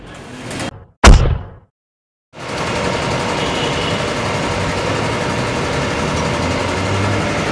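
A motorcycle engine that ran out of oil and was refilled, running rough after a brief clatter and pause, then a steady, dense idle rumble that fills the rest of the clip at close range.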